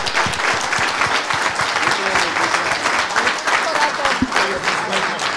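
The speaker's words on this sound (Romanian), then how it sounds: "Aplauze!" Dense applause from a large seated audience at an entrepreneurship conference session, a steady crackle of many hands clapping throughout with faint voices mixed in.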